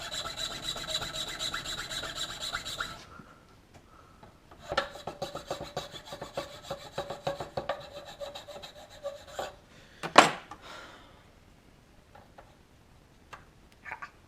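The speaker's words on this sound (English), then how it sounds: "Now it's just a matter of filing these corners square." Hand file rasping the corners of a wooden lamp base square, bursts of rapid close scraping strokes separated by pauses, with one louder knock near the end and no talk.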